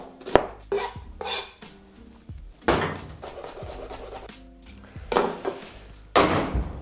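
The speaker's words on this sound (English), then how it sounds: "onion, garlic, and rhubarb chopped" Onion, garlic and rhubarb chopped on a cutting board, a series of sharp close knife strikes in irregular bursts with brief scraping between them.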